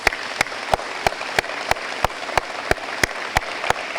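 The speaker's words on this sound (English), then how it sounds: "let's give him and his staff a big round of applause" Applause from an audience at an airport hangar ribbon-cutting ceremony: a steady wash of clapping with sharp, evenly spaced individual claps standing out, fairly close and continuous.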